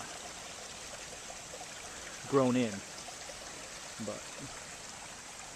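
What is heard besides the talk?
creek water flowing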